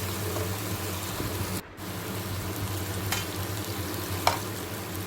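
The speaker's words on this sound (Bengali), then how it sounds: "দিয়ে একটু মশলাটা মিশিয়ে নিচ্ছি চিনি দিয়ে" Masala with sugar stirred in a hot frying pan for a paneer dish, with a continuous dense sizzle and a few soft scraping strokes throughout, no talking.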